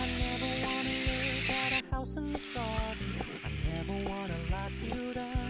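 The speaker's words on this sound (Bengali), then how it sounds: "এইবারে মশলাটা দিয়ে ভালো করে কাঁকড়াটাকে একটু কষিয়ে নিতে হবে।" Crab fries with spice paste in a pan for crab curry, a close, continuous sizzle with rhythmic scraping and knocks of a spoon, briefly interrupted before the stirring picks up again.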